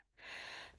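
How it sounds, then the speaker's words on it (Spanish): A single short, breathy cough from an instructor during a class, quiet and isolated. "Ay, perdón, gente, estoy con esta tos."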